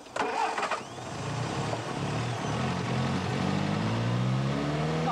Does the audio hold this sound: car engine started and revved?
yes